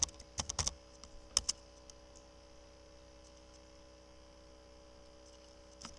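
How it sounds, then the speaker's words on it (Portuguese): A few quick computer keyboard key clicks in a cluster at the start, then two more taps and a last one near the end, faint and close over a steady low electrical hum. "Pressione a tecla Ctrl Enter."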